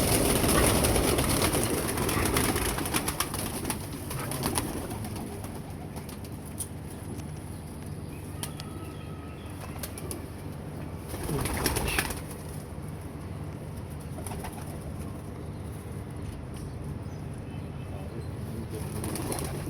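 Pigeons coo and flutter close by in a loft, soft repeated coos over a steady background, with a burst of wing flapping near the start and another around the middle.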